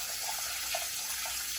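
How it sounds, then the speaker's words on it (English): Cold water runs into a bowl of arborio rice, Italian short-grain rice, for rinsing, giving a steady close broadband wash of tap water with faint splashy bursts and no voices. "I'm just going to fill my bowl up with cold water."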